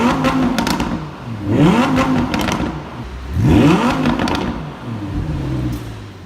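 A second-generation Audi R8 V10 Plus engine with opening exhaust flaps revs hard in two strong, rising surges, loud and close, then settles back toward idle between blips.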